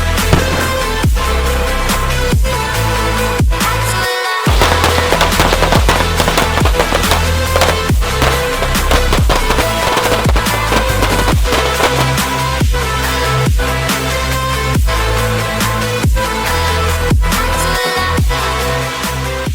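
Rapid, loud gunshots ring out at an outdoor shooting range in Ohio, sharp reports repeating in an irregular, fast rhythm across the whole stretch with almost no pause.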